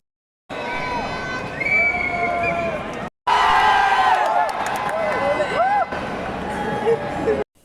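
Stadium crowd at a Kerala Blasters versus FC Goa football match at Kaloor Stadium, a dense roar of cheering and clapping that swells after a brief break, with whistles and shouting voices mixed through the hubbub.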